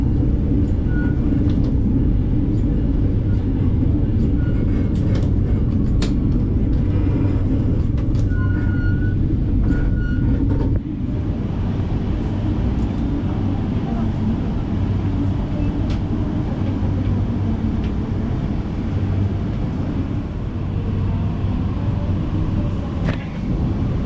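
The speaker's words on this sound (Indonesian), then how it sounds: "Kereta api Gunung Jatinya diberangkatkan kembali." A Gunung Jati passenger train rumbles at Jatibarang station with a steady low, continuous drone, loud and close, with faint background noises and a slight drop in intensity partway through as it departs.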